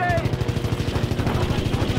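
Rapid automatic gunfire rattles steadily in a continuous burst, close and loud, like a machine gun firing in Call of Duty: WWII during an aircraft sequence.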